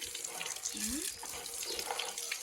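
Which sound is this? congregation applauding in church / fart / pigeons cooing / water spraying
water spraying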